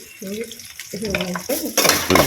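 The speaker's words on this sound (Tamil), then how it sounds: "நல்லா சுருண்டு வர அளவுக்கு வதங்கணும்" Sliced bitter gourd with turmeric sizzles in a hot pan while a spatula stirs, brief bursts of frying noise mixed with a voice speaking over it.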